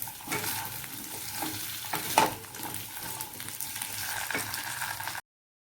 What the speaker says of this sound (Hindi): अब मैं यहाँ पे आलू गोभी की सूखी सब्जी बना लूँगी, और बहुत ही सिंपल तरीके से इसे भी अदरक के साथ बनाई थी